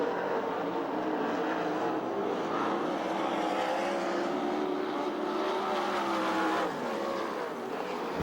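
USAC/CRA sprint cars racing at Perris, California, their engines roaring in a continuous, loud, dense drone with shifting pitch as the pack circles the track, briefly dipping near the end.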